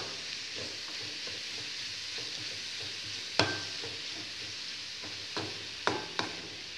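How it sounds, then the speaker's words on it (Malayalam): Beetroot and onion cooking in a pan for beetroot pachadi, a soft steady sizzle with occasional sharp clacks of the spoon against the pan as it is stirred. "ഇങ്ങനെ കിടന്ന് തന്നെ ഇങ്ങനെ ഇളക്കി ഇളക്കി ഈ ബീറ്റ്റൂട്ട് വെന്ത് കിട്ടും"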